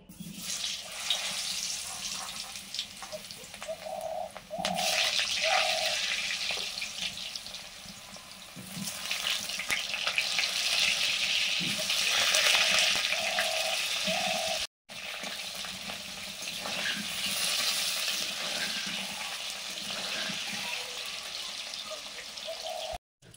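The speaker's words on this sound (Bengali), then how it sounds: "মাংসের আলুগুলো ভাজছি।" Potato pieces for a thin chicken curry fry in a pan with a continuous crackling hiss that fades briefly partway through, over faint background music.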